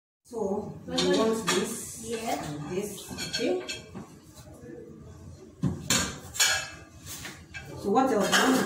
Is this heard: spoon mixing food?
yes